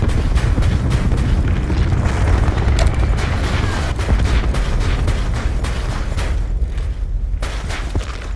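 Hellstorm missile strike in a Call of Duty-style shooter, a continuous loud rumble of explosions and booming blasts that fills the whole stretch without pause.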